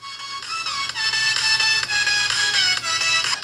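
Tones from the small speaker of an HK85 AMOLED smartwatch, bright, thin melodic notes in short rising and falling phrases, fairly loud and alone.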